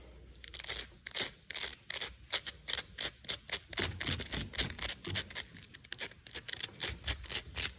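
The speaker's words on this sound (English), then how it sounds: "Real fine brush, and just gently rub it across the Velcro." A fine pet flea brush is rubbed back and forth across Velcro to pull out lint, giving a close, steady series of quick scratchy rasping strokes in an even rhythm, with no talking.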